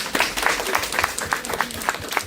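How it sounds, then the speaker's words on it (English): Several people in a self-defense seminar audience applaud briefly, with scattered claps at moderate loudness over a steady room murmur. "give a round of applause"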